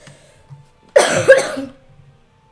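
A single harsh cough bursts out close by, rough and chesty, lasting about a second amid otherwise quiet surroundings.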